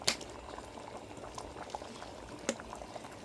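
A pot of corn and misua soup seasoned with patis at a rolling boil, a soft low bubbling churn with a few sharper pops and clinks, quiet and close.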